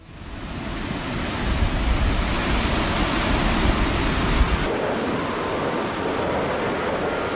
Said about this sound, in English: Massive waves crashed down on a small boat in the middle of the ocean.